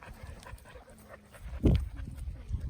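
Rocky, a dog beside a backyard duck pond, pants in quick, breathy bursts close by, with a brief louder huff near the middle and no talking.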